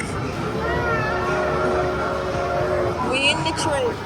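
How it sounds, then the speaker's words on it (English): Ride-on train rolling through an indoor shopping mall, a steady rumbling drone with tonal whistle-like hums, a brief higher chime near the end, and voices talking faintly underneath. "We're on our way in the speeding train."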